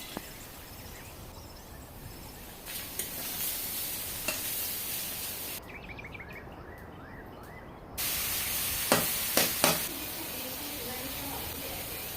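A curry in a wok sizzling steadily, with a short quiet break partway through and then sharper hissing bursts and clatter near the end, with a voice speaking over it.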